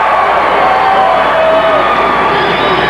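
A loud crowd cheers and shouts continuously in an arena after a 189-pound Kansas state championship wrestling match, a dense roar of voices with scattered whoops.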